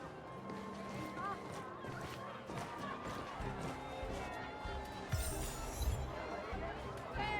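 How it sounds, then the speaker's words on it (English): City crowd ambience in Belobog in the video game Honkai Star Rail: a steady murmur of many voices with scattered clinks and footsteps. A louder commentator voice talks over it. "A lot of crowd noises they decided to go with here."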